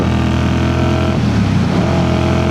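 A 1981 Honda CX400C motorcycle engine drones steadily and loudly while riding downhill, with a brief dip in tone midway as the rider shifts, searching for sixth gear, before the revs climb again.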